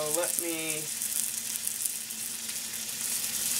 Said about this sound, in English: I'm just gonna fry a couple for now to see if I like the taste